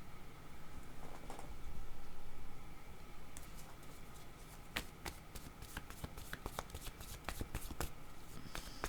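Playing cards being shuffled and handled at a card reading, giving a quiet, steady run of soft riffling ticks and light snaps close by, with no talking.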